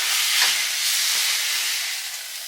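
Beef pot roast dropped into a very hot, already smoking Dutch oven, giving a loud, steady broadband sizzle and hiss that runs close and unbroken the whole time, with no talk over it.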